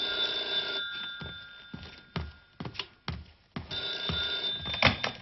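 An old-style telephone bell rings in short repeated bursts with brief gaps between them, close by and fairly quiet, with no speech over it.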